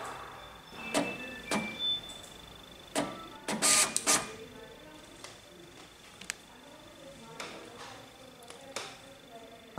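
A Zebra ZT411 label printer shifts its label back and forth during RFID calibration, giving short mechanical whirs and clicks with quiet gaps between them, close and fairly faint.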